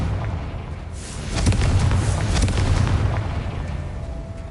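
A Confringo fire spell blasts in Hogwarts Legacy, a deep rumbling boom that swells after a second and rolls on with crackling debris for several seconds, loud and without speech.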